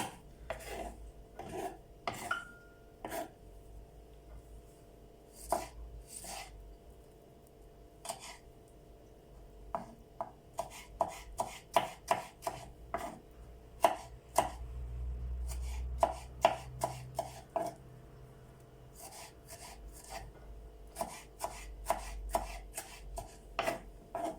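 A knife chops tomatoes rapidly on a cutting board, sharp taps coming in quick irregular runs with brief pauses, close and clear against quiet background noise.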